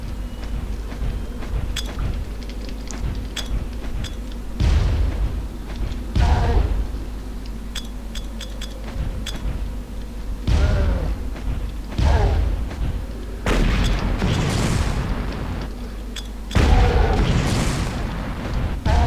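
Grenades going off in the Far Cry video game, several loud booming blasts at irregular intervals over a steady low game-ambience rumble.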